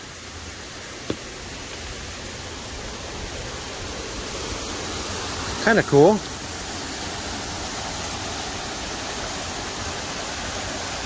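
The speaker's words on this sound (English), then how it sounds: "Right over here is waterfall." A waterfall beside the Appalachian Trail near Killington Peak in Vermont makes a constant, even rush of falling water. It fills the whole clip, and someone speaks briefly once over it.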